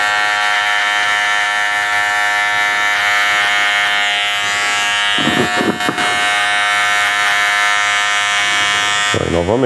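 An electric hair clipper buzzes loudly and steadily up close as it cuts hair in a fade haircut, its tone shifting as the blades move through the hair in short curved strokes.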